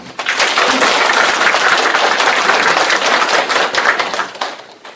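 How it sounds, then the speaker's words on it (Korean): An audience in a lecture hall breaks into dense, loud applause that carries steadily for several seconds before thinning out at the end. "동의하시는 분만 박수"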